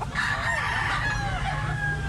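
A rooster, a big black cock, crows in one continuous call close by over a steady low background hum.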